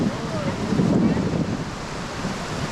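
Ocean surf at a surfing spot in Siargao, Philippines: a continuous broad wash of breaking waves mixed with wind buffeting on the microphone, steady and fairly loud throughout.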